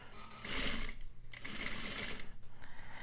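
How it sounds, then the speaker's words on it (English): A sewing machine stitches bias facing around a curved neckline in short bursts, a fast whirring, ticking run that pauses and restarts as the fabric is guided, loud and close. "you will have to manipulate the fabric to this curving motion around as you sew"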